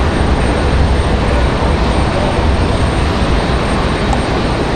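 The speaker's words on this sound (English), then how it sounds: "Now the 757 still sitting out there at the end of the runway waiting for everybody to get in here at the moment" A Boeing 757 jet waits at the end of the runway at Raleigh-Durham International Airport, its engines giving a steady, loud, broadband roar that holds evenly throughout with no voices.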